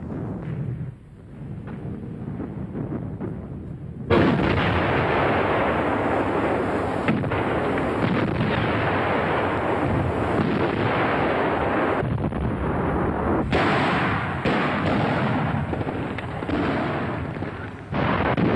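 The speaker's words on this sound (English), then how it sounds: "The 88 was also frequently employed in the conventional artillery role." A German 88 mm gun fired in the artillery role by Waffen SS crews, heard as a massive sustained roar of blasts and rumbling concussions after a quieter opening, with dense overlapping detonations and a brief dip midway.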